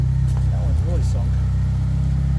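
Turbocharged all-wheel-drive Eagle Talon Turbo car on BF Goodrich tires, stuck in gravel and trying to back out. Its engine idles with a steady, loud low rumble, and a person talks briefly over it.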